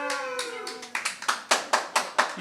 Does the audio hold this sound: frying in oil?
no